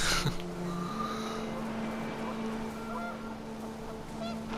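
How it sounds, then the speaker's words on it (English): Panicked geese honk in What Remains of Edith Finch, several calls layered over steady wind and a low drone, loud and close near the start, then scattered further calls. "The wind picked up and panicked geese appeared and quickly went."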